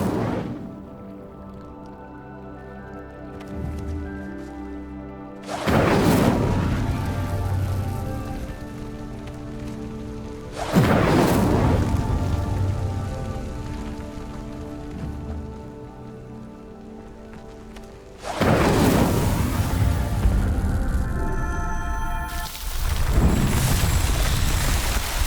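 The Incendio spell lights fire pyres in Hogwarts Legacy, with three loud whooshing bursts of flame, each one sudden and then fading into a crackling roar, and a final burst at the end over a sustained tonal game score.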